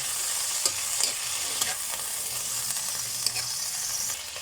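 Corn sardines sizzle and crackle in a hot pan while a utensil scrapes and stirs them every second or so. The frying hiss is steady and close, and no one speaks over it.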